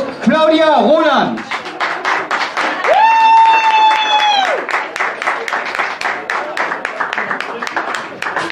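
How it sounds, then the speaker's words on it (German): Audience applause at a charity stage show, a dense run of clapping that swells after a sustained tonal voice or cheer and keeps going steadily to the end. "Dein Applaus"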